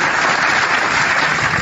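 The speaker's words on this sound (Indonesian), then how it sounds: "Saya harus tepuk tangan dulu" Dense, continuous clapping or applause-like noise, loud and steady throughout, with no speech over it.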